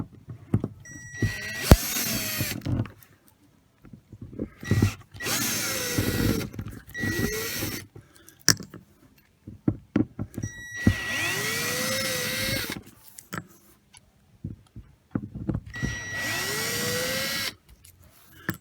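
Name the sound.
power tool removing screws from an RV skylight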